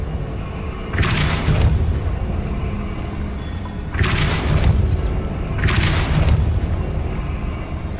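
Depulso spell in Hogwarts Legacy, three loud whooshing blasts spaced a few seconds apart, each a sharp bright burst that fades out over a low rumbling background.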